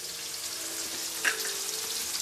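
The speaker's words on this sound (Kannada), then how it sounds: "ಇದು ಆನಿಯನ್ ಎಲ್ಲ ಚೆನ್ನಾಗಿ ಫ್ರೈ ಆಗ್ಬೇಕು" Onions fry in a pan with salt, turmeric and chilli powder for a mushroom dish, giving a steady close sizzle with one brief louder crackle and no voices.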